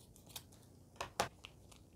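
Scissors snip open a sachet of sauce for Samyang Buldak chicken and chive stew-type fire noodles, giving a few quiet, crisp cuts spaced over two seconds, with the sharpest snip near the end and no talking.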